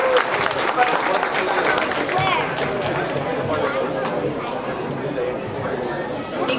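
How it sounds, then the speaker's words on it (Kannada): Applause ripples through an audience at a community cultural event, many hands clapping at moderate loudness with voices and chatter mixed in, gradually thinning toward the end. "ಸೊ ಇದಕ್ಕೆ ನೀವು ಜೋರಾಗಿ ಚಪ್ಪಾಳೆ ತಟ್ಟಲೇಬೇಕು."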